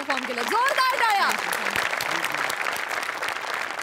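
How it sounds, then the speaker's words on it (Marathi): An audience at a stage comedy show claps loudly and continuously after a performance, dense applause holding through with a voice briefly heard at the start. "जोरदार टाळ्या"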